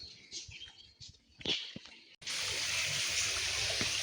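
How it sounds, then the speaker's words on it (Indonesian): Water from a switched-on aviary waterfall splashes and trickles in a steady, close wash, following a stretch of quieter ambience with faint bird sounds. "kalau dia dinyalakan itu bagus suara gemericik airnya ya"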